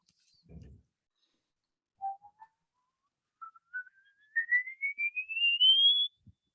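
A single whistled tone slides steadily upward to a thin, high note and holds briefly, with a soft thump before it and near silence around it.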